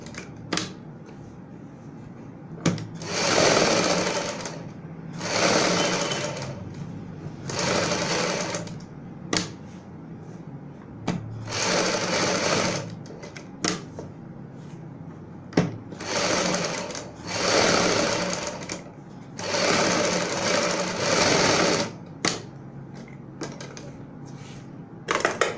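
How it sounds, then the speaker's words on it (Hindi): A sewing machine stitches patchwork onto the front and neckline of a kurti, whirring in about eight short runs with quiet pauses and small clicks between them, close and steady. "अब हम दूसरी साइड भी सिलाई को कंप्लीट करेंगे।"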